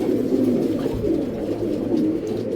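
Racing pigeons coo softly and repeatedly, a low burbling chorus close by with no talk.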